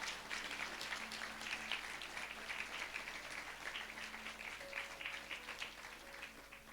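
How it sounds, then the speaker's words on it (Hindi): A church congregation at a Sunday service claps steadily for several seconds, a soft, even patter of many hands heard from a distance. "ताली बजाइए जोर से,"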